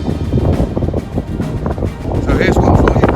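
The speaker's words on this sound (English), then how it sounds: "That's how windy it is up here." Strong gusts on the South Downs Way hills buffet the microphone in loud, uneven bursts, a rough roaring wind noise throughout with a brief exclamation.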